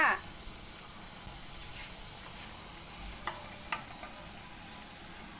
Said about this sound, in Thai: ต้องให้รอให้น้ำเดือดจัดๆแบบนี้เลยนะคะ